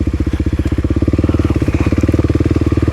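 A Kawasaki KLX300 dirt bike engine idles close by with a fast, even thumping pulse, loud and steady for the whole stretch with no talking.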